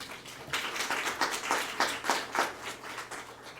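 An audience at a science lecture applauds to welcome the speaker, a dense, steady patter of many hands clapping for several seconds at moderate volume in a hall.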